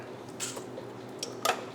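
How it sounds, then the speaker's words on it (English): A few soft wet plops and squishy splashes, spaced irregularly, as shrimp drop one after another into ice water nearby. "Drop them in the ice water."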